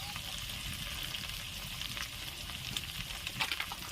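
Chicken sizzling in a pan with turmeric, cumin and other spices for a Bengali chicken do pyaza, a soft steady fry with small crackles and the occasional stir, and no voices.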